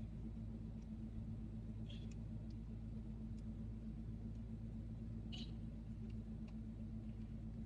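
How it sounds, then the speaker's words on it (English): A car being pushed or moved by hand indoors by a novice, heard as a steady low rumble throughout with a few faint brief knocks, no talking. "So I'm going to try to move this car."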